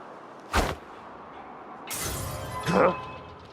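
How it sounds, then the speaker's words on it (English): Glass shatters in Dishonored 2, a sharp crash breaking out mid-clip followed by a second brighter burst of falling shards, with an earlier short thud and a quiet game backdrop. "That sounded like broken glass"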